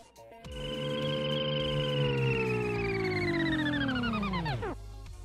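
A Jetsons cartoon flying car sound effect: a bright electronic warbling tone that glides slowly downward for about four seconds before sweeping sharply down and cutting off, clean and alone.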